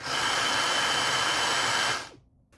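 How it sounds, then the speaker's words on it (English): A 2011 Dyson DC34 Animal cordless vacuum cleaner runs with its mini motorized brush bar fitted, giving a loud, steady high-pitched whine close by that cuts off abruptly near the end. "It's got the mini motorized brush bar."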